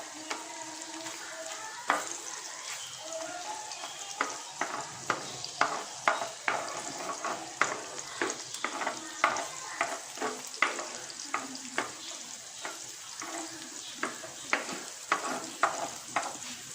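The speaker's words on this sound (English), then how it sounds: "While it's on the oven, you can keep stirring the sausages." Sausages frying in a pan for a vegetable spaghetti, with a steady sizzle under repeated scraping and clacking stirring strokes, close and continuous.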